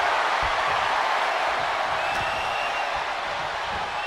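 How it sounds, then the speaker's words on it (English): Capacity arena crowd at an NXT Battleground show in Las Vegas in the WWE 2K25 video game, a steady, loud roar of crowd noise throughout. "you hear this capacity crowd following you on that journey."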